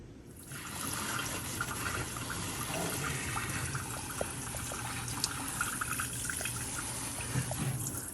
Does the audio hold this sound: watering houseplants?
yes